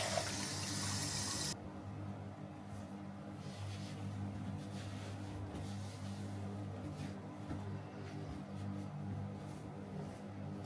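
A tap runs steadily into a sink while hair dye is washed off skin, a constant close hiss of flowing water that starts brighter and settles into an even stream, with no talk.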